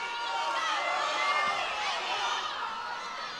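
Spectators at a high school wrestling match between Cedar Cliff and LD rise into a loud, sustained roar of cheering and shouting that swells and holds throughout.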